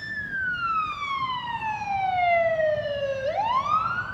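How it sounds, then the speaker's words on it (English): A single loud siren on a golf course sweeps in one long falling wail, then abruptly rises again, blaring close and alone over faint background noise. "the sirens are blaring"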